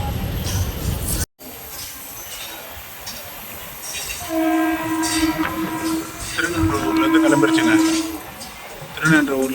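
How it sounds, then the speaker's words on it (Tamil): A MEMU passenger train departing Arakkonam rumbles and clatters along with steady wheel noise, and a long tonal horn sounds midway, loud and close. "அரக்கோணத்துலேருந்து ட்ரெயின் கிளம்பிடுச்சு."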